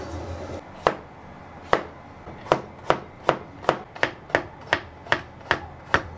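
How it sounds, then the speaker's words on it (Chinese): A knife chops garlic and small chili peppers on a cutting board in a home kitchen: about a dozen crisp, distinct strikes, sparse at first and then falling into a quick, even rhythm, close and clear with no talking. "所以我切了一点大蒜跟小米椒"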